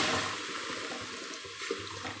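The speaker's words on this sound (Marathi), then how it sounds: "यामध्ये आता आपण घालणार आहोत गरम पाणी." Hot water is poured into fried varai (barnyard millet) rice in a pot for a fasting-day dish, a steady close splashing rush lasting a couple of seconds with no voices.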